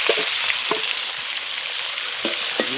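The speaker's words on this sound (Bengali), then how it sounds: "এদিকে মাছ ভাজা চলছে সুন্দর করে" Fish frying in oil over an outdoor cooking fire in a forest, a continuous bright sizzle with a few soft knocks and scrapes of stirring, close and steady.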